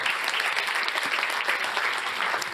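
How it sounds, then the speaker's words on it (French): Steady, dense applause from an audience at an insurance awards ceremony, continuous and fairly loud throughout. "on peut vous applaudir"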